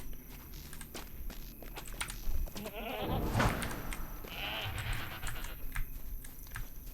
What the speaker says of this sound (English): Another goat, another goat.